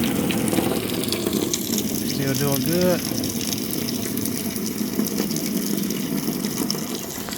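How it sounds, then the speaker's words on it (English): Water rushes steadily from a tap into a container at a goat brush-clearing site, a continuous loud gush with a brief gurgling burst midway and someone speaking briefly over it. "fill that water up."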